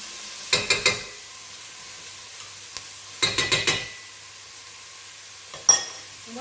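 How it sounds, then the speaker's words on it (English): Onions being spread through oil in a pan: short bursts of scraping and clatter from stirring, in three clusters, over a faint, quiet sizzle. "all I'm doing is I'm just spreading the onions in the oil and making sure that everything is coated."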